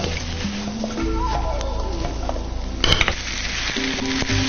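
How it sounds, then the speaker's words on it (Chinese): Rice, salmon and other ingredients stir-fried in a wok, with continuous sizzling and scraping of the utensil, plus a louder clatter of tossing near the three-second mark. "一定要还是在把米饭和三文鱼等等配料翻炒均匀的时候，稍微注意一点点"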